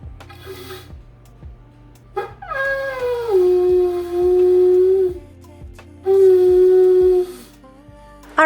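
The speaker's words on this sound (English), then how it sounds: "Can you tell my dog Emma does not like the vacuum?" A pet dog howls in long, wavering, drawn-out cries while a household vacuum cleaner runs indoors, the loud howls rising and falling over a steady low whir and rhythmic thumps.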